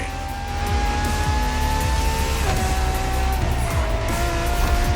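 Ferrari supercar from Maranello driven in the racing game The Crew Motorfest, its engine droning steadily at high revs with shifting pitch sweeps and tire squeal, loud and continuous throughout.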